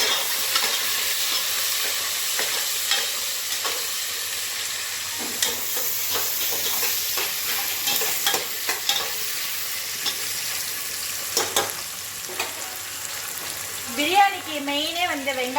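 Onions for chicken biryani frying and being stirred in a pan, a steady close sizzle with scraping stirs throughout, while a person speaks briefly near the end.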